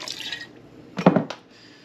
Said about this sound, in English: you can just pour some more wine in there.